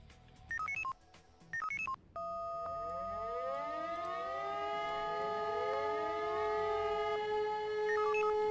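A civil defense siren test in the Emergency 4 video game: a few short electronic control tones chirp first, then a loud siren swells up and holds a rising, steady wail alone, with another brief tone burst near the end.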